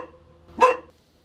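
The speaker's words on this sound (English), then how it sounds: "He's barking at me pretty loud." A large dog in an old hillside village near the sea lets out a single loud, close bark, short and sharp, with quiet surroundings before and after.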